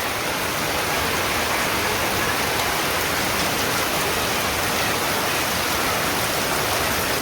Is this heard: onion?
no